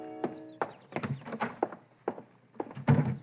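A door-opening sound effect from a 1948 old-time radio mystery drama: a handful of separate wooden thunks and clunks spread over a few seconds, fairly close, with a heavier knock near the end and no voices.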